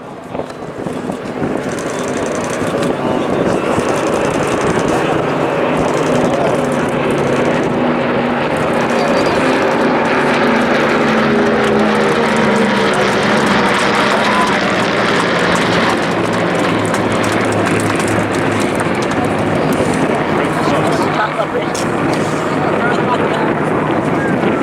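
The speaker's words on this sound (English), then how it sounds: "Love that sound of those Merlins, cannot get enough of it." Merlin-engined aircraft of the Battle of Britain Memorial Flight pass at an airshow at Blackpool, a loud sustained propeller-engine drone swelling and holding with a shifting pitch, wind buffeting the microphone and people talking underneath.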